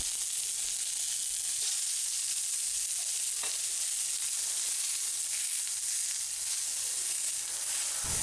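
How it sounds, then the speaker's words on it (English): Steady sizzling and spattering of a ground-pork sausage patty frying in a hot vintage Griswold cast iron skillet, a continuous bright hiss with occasional pops, no voices. "we're frying it in a vintage Griswold cast iron skillet."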